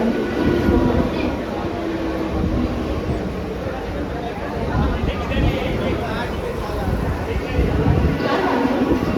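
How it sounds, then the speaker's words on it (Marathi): Mumbai local train at Mulund station platform, a continuous loud rumble of carriages and wheels along the track, with station announcements and crowd voices layered over the train noise. "प्लॅटफॉर्म क्रमांक 1 पर आई हुई लोकल 4:30 पे टिटवाळा जाने वाली ही लोकल है"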